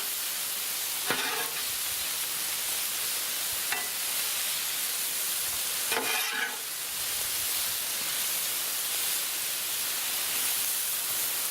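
Peppers stirred and tossed with a spatula on a hot Blackstone griddle, giving a steady, loud sizzle with a few brief scraping bursts of the spatula against the flat top.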